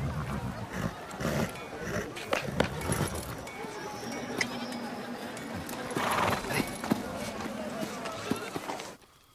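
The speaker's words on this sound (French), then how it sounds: "C'est un beau cheval." Hooves clop unevenly on hard ground amid outdoor ambience, with voices talking now and then over the footfalls.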